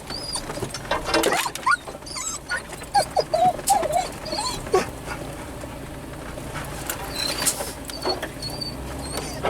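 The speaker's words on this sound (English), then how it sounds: "Settle down, dog." A dog whimpers on a woodland upland bird hunting trip, giving several short high whines and squeaks close by, mixed with rustling and pattering.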